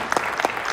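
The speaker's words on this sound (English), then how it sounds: "a round of applause for all of her accomplishments" A short burst of applause from the audience at a board of education meeting, bright scattered claps rising and falling in quick waves.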